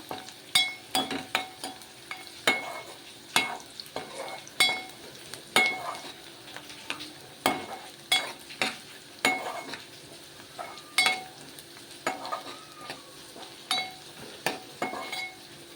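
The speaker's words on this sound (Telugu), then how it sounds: "మనకు ఉల్లిపాయలు వేగుతున్నాయండి చూడండి" Onions frying in a pan for mutton curry, a steady close sizzle broken by frequent spoon scrapes and light metallic clinks as they are stirred, with no talking.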